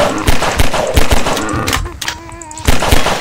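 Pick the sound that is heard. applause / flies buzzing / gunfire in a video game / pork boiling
gunfire in a video game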